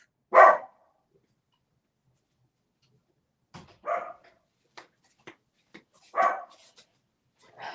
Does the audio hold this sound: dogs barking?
yes